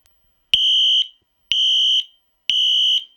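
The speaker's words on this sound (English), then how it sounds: "this is a classic episode of Bloodfeast where we listen to the alarm" A fire alarm in a radio studio sounds three loud, sustained electronic beeps at a steady, evenly spaced rhythm, each about half a second long with silence between. It plays alone, with no talking.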